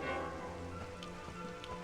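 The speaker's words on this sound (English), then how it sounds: "I'm enjoying this rain though." Rain falling in Dragon Quest XI S, a steady patter of drops on surfaces with a few sharper splashes, soft and ambient under a faint background tone, no voices.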